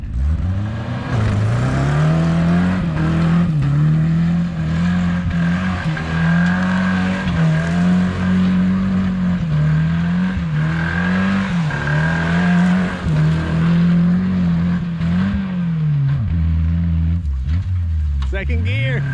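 A 1981 Ford Courier work truck revs hard while doing donuts around a tree, its loud engine drone rising and falling in steady waves with tire scrub throughout, then dipping near the end.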